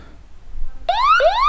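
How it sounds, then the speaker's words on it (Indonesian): An ERACOM TK11 handheld radio transmits an alarm after a long button press: two loud rising electronic siren sweeps, each sliding upward in pitch, begin about halfway through after a quiet lead-in. "Kalau tekan lama, oh dia transmit alarm."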